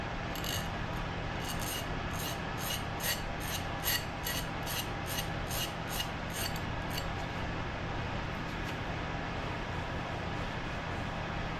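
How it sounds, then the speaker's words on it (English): Small hand file scraping a burr off the edge of a piston ring during a Honda D16 engine build, a rapid series of short raspy strokes in the first half, then steady workshop noise. "So we're just gonna take our little file here"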